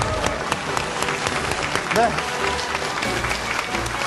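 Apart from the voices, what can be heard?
applause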